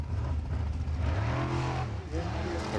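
A formula offroad car at an Icelandic competition in Egilsstadir climbs a steep hill, its engine droning steadily and rising in pitch with harmonic sweeps, heard continuously under a commentator's voice.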